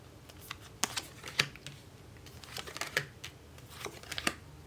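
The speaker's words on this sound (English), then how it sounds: "Let's pull more cards on this." Tarot cards are shuffled and pulled, giving soft, irregular close-up flicks and taps of card stock with quiet gaps, and no voice.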